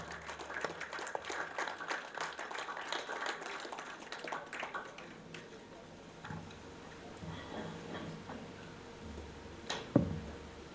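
Applause from an audience at a poetry evening in a Karachi arts council hall welcoming a guest speaker; steady clapping that fades over several seconds, with a sharp knock near the end.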